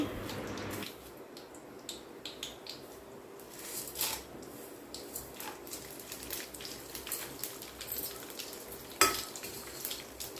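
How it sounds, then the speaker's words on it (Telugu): Tempering spices crackle and sizzle in hot oil after green chilies, for a village-style amaranth leaf fry: steady close frying hiss with scattered pops and stirring scrapes, one sharper clatter near the end. "ఇప్పుడు తాలింపు సామాన్ అంతా ఆయిల్లో వేసుకోవాలి"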